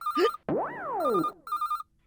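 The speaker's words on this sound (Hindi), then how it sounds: "आपको याद करने वाले का फोन आ गया" A phone rings with a bright electronic melody, rising and falling tones in short bursts, loud and close with no voices.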